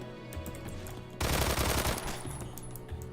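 A UMP40 submachine gun fires in the online shooter Phantom Forces: one loud, fast automatic burst lasting under a second, then quieter game ambience.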